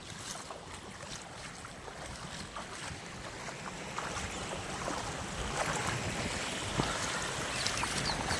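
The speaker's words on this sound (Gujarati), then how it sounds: "પાણી જાય છે તમે જોઈ લ્યો આટલું પાણી જાય" Water rushes across a road crossing near Jampar, a steady broadband flow with some wind buffeting that grows slightly louder toward the end.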